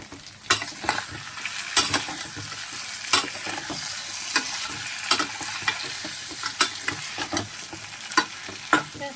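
Rice, eggs and aloo posto cooking on a home stove: a steady frying sizzle with frequent sharp clinks and scrapes of a utensil stirring in a pan, close and fairly loud, no voices.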